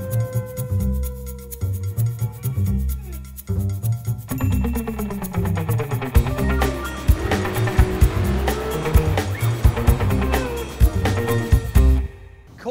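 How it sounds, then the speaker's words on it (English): A 2014 Corvette C7 Stingray on the Laguna Seca race track, its engine loud and close as it climbs and drops through gear changes, with tire squeal and a brief cut at the end. "I get to drive the new Corvette C7 Stingray"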